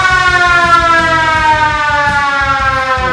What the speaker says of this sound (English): let you hear the siren